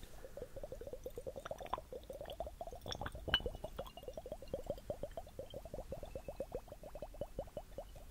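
Small glass flasks fizz with forming bubbles in an ASMR session: a dense, steady stream of tiny crackling pops and soft bubbling, close to the microphone, continuing evenly throughout with no talking.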